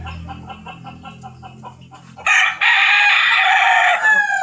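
A rooster crows loudly and close in one long, strained call, following a stretch of low clucking and rhythmic background noise, with a second shorter crow beginning at the end.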